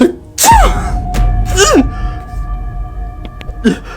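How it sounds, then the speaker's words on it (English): A voice performs a couple of exaggerated, drawn-out sneezes with rising pitch, alongside a sustained tone and a final shorter sneeze-like burst. "inhales and fakes a ginormous sneeze"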